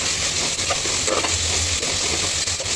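Masala of chopped onion and salt sautéing in hot oil for masale bhat, a close, steady sizzle with a few soft stirring touches over a short stretch, no voices.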